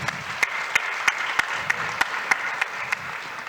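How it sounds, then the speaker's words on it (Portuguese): An audience at a university event claps steadily while one close clapper lands sharp, evenly spaced claps above the softer crowd applause. "Palmas, professora Denise."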